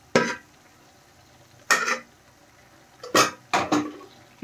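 Carrot halwa with thickened boiled milk being stirred in a pan, four separate scraping strokes of a spoon against the metal, close and fairly soft, with quiet pauses between them.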